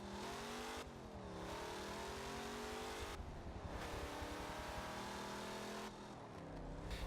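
A car engine in Forza Motorsport 7 revs hard and climbs through its gears as the car takes corners. The steady tone rises in pitch, drops at each gear change and rises again, close and continuous, with no talking.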